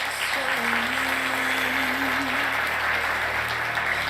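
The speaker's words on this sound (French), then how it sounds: "On les applaudit." At a tech awards ceremony, an audience claps steadily as student finalists come on stage. The applause is a sustained, even wash, with a brief tonal sound early on.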